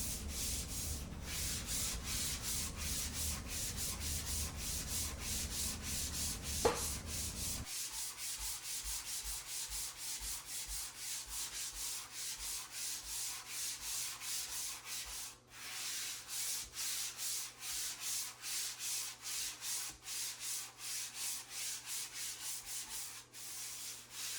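Sanding a drywall patch, a steady abrasive scrubbing that runs the whole time in rapid back-and-forth strokes, close and fairly loud, with a brief tonal squeak partway through and a low hum dropping away early on.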